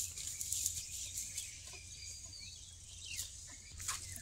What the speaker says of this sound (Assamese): আৰু চাৰিওফালে চৰাই চিৰিকটিৰ মাত,